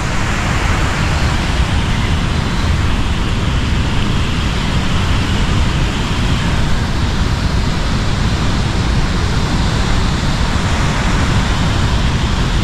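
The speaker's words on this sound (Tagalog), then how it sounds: "Sobrang lakas yung tubig dito." Strong floodwater rushes continuously during a typhoon, a loud, dense, steady roar close by that fills the whole stretch without letup.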